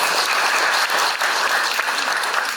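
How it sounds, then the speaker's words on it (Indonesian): Sustained applause from a crowd, steady and dense clapping throughout with no break. "Tepuk tangan untuk Pak Hartanto."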